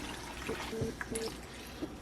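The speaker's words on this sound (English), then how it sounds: "I'm going to fill this with enough cold water to cover the vegetables" Cold water is poured over vegetables in a slow cooker, a short close trickle and dribble with faint splashes, quiet and brief.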